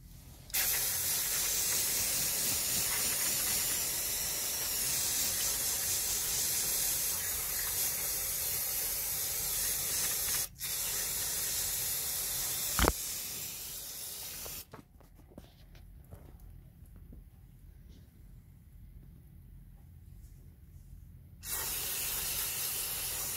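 An aerosol spray hisses while cleaning a grimy engine surface near the water pump on a 1.4 HDI during timing belt work, a long loud continuous jet broken by brief pauses, then a quieter stretch before spraying resumes.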